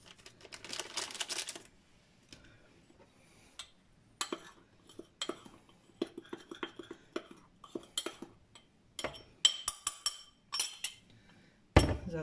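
Half a kilo of cheese with two spoons of flour and baking powder being mixed in a bowl, with sharp clinks and taps of a utensil against the dish in irregular bursts, close and fairly quiet.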